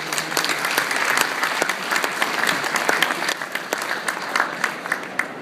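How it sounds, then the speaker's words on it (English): A room full of people claps steadily, a dense patter of applause that holds at an even level throughout. "let's give them a great round of applause."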